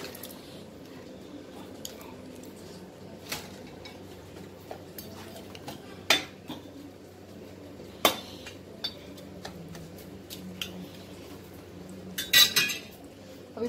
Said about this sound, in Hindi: अब मैं इस पे जो गोश्त हमने बेक किया था मटन वो हम मैश के ऊपर डाल दूंगी